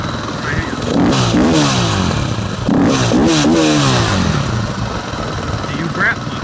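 A 2015 KTM 500 EXC dirt bike engine idles steadily up close for the whole stretch, a low even rumble with someone talking over it.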